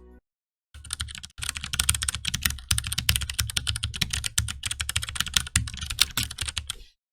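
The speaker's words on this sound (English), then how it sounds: "here's a quick video showing how the keyboard sounds" Steady, fast typing on a Tecware Phantom L low-profile keyboard, a dense run of crisp, close key clicks after a short pause, with no voices over it.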